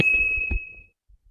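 A single bright notification ding rings out clearly and decays smoothly over under a second, with a short soft thump at the start and near silence after it.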